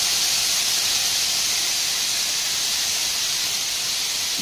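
Onions with salt sauté in a pan for a baby potato fry, a loud, unbroken hissing sizzle held close and even throughout, with no voices.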